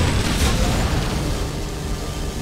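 Explosion in the Doom game mod Plutonia 2 with Brutality Doom, a loud broadband boom that starts the clip and rumbles on while slowly fading.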